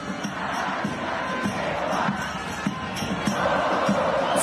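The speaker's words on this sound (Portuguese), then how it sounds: "Festa da torcida portenha, Guguita." Argentine football supporters celebrating in a dense crowd, a steady roar of cheering and shouting that fills the whole stretch, with occasional louder bursts of voices rising above the wash.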